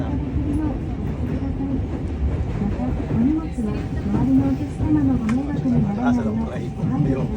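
A commuter train in Tokyo, Japan rumbles along the rails with a steady low roar, while people talk nearby over the running noise.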